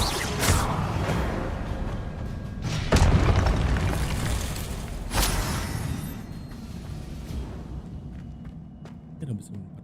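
Expelliarmus is cast in the Hogwarts Legacy video game, producing several sharp magical booms and whooshing bursts over a few seconds, mixed with other spell effects and fading toward the end.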